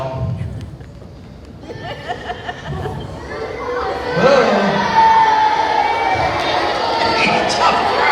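A crowd of school children in a group setting chatters, then breaks into louder shouting and cheering that builds and holds toward the end, with an adult voice briefly exclaiming early on.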